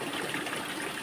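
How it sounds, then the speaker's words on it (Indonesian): Spring water pours steadily from a tap fitted straight onto the spring source, giving a close, continuous rushing splash with no pauses. "Ini air keran ini bukan dari pipa atau saluran air"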